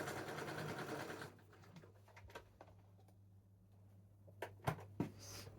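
A sewing machine runs a straight stitch briefly at the start, then stops, leaving a low hum with a few soft clicks and taps.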